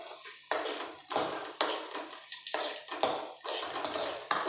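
Spices being stirred and sautéed in a pan, a repeated scraping of a spatula against metal roughly every half second, close and steady with no talk.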